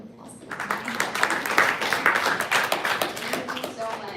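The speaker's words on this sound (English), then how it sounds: "Let's give her a round of applause." An audience at a conservation talk claps for a speaker being introduced, with applause swelling after a brief start and continuing steadily, with individual claps standing out near the end.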